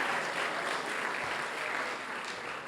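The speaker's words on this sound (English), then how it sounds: "Round of applause for that." An awards-ceremony audience at the 2025 WESPYS claps in steady, even applause that holds at a moderate, somewhat distant level throughout.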